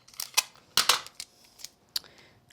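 Scissors snipping through seam binding ribbon at a craft table, several crisp close cuts in quick uneven succession with brief quiet gaps between them.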